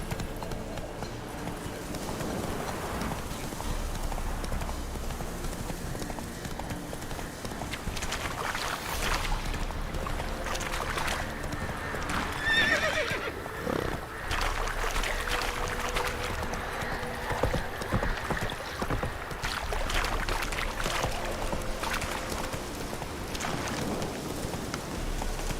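A horse in The Witcher 3 video game moves at a steady clip-clop over a dense, continuous wash of outdoor ambience that lasts throughout, with no clear neigh standing out.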